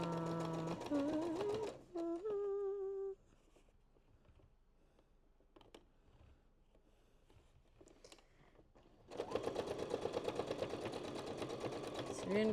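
A sewing machine runs a regular straight stitch along a quarter-inch seam, a brisk, steady mechanical whir that starts after a quiet pause, with a person talking briefly at the start.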